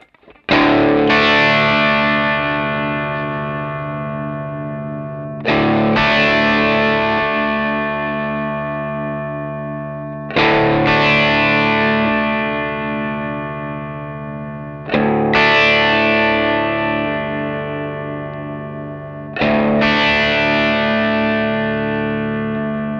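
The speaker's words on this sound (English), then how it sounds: "next we'll just try the different clipping stages before we mess with the controls" Five electric guitar chords through a variable clipping distortion pedal, each on a different clipping stage, are struck one after another, each left to ring and fade for several seconds, gritty and saturated, no talking.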